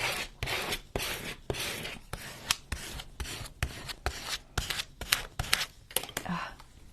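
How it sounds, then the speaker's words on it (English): Scissors trim a paper craft piece in a quick series of sharp snips and rustling paper rubs, close and fairly quiet, repeating irregularly throughout. "I can trim that a little bit."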